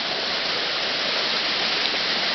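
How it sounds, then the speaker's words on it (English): A waterfall pours over concrete blocks in a dense, continuous broadband roar, steady and close, with no voices. "I'm sure the waterfall's always been here"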